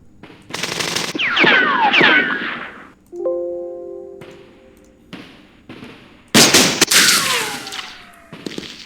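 Rifle fire from a brigade in the Campaign Series Middle East war game crackles in two loud bursts of rapid shots with ringing ricochets, separated by a softer tonal game chime and short quieter stretches.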